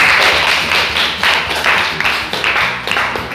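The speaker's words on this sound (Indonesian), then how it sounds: "kasih tepuk tangan dulu" A class of students clapping their hands in a school classroom, a steady loud patter of many hands throughout with a few stronger bursts, no voices on top.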